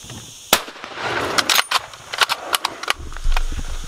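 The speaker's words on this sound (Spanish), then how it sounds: "Está esperando el momento oportuno para realizar el disparo a su hembra de arroyo" A sharp rifle shot at a female Barbary sheep during a stalking hunt cracks out, followed by scattered clicks and rustling outdoors, with a low rumble near the end.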